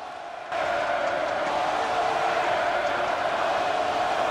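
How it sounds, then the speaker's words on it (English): The arena crowd in the NBA 2K16 video game breaks into a Warriors chant late in the fourth quarter, a broad, steady roar that swells in abruptly after a moment of quiet and stays loud. "take a listen into the crowd as they break out in a Warriors chant with 3 minutes left in the fourth quarter"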